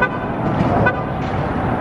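Heavy roadway traffic rumbles overhead while standing under a bridge, a broad steady roar with passing vehicles and a brief horn toot, close and loud with no talking.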